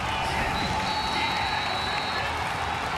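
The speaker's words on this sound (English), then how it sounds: "you can hear the crowd in Yokohama" A large arena crowd at the Pokémon UNITE Asia Champions League 2026 esports finals in Yokohama roars in a dense, sustained wash of cheering and applause, loud and unbroken throughout.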